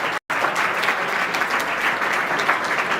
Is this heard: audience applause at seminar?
yes